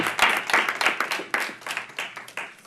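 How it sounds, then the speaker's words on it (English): A small audience at a Royal Oak city commission meeting claps after a transit task force presentation, a few hands giving brief, uneven, close-sounding bursts of applause. "We'll applaud."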